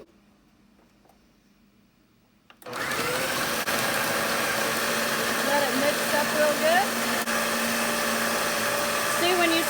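A food processor running steadily, churning a batch of raw dog food meant for huskies, starting abruptly after a quiet moment and holding a loud, continuous motor whir with shifting clumpy chopping underneath.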